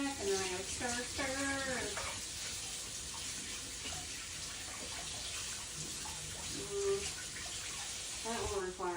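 Tap water runs steadily into a kitchen sink while cheese and green onions are prepped for a corn dish, a continuous broadband wash beneath intermittent talking.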